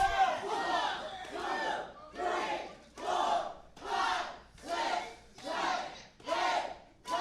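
A wrestling crowd chants and shouts in rhythmic unison, about nine evenly spaced bursts of massed voices rising and falling like a counted call, loud and close.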